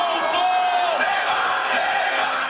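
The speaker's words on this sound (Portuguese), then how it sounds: "Torcida em Bangladesh faz festa depois da vitória da nossa seleção" Football fans in Bangladesh celebrate a victory, a dense crowd roaring, cheering and shouting together in a steady, loud wall of voices with occasional whoops rising above it.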